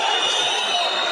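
Boxing arena crowd roaring and cheering steadily during a fight, a dense continuous wash of voices with no pauses, heard briefly.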